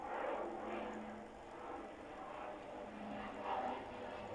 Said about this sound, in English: That's 4 planes.